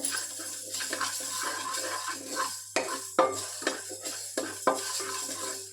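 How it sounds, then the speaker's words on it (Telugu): Fenugreek seeds roasting in a pan, with repeated scraping stirs and sharp clinks of a spoon against the pan over a light, dry sizzle. "కొంచెం మెంతులు, వీటిని బాగా వేయించుకోవాలి."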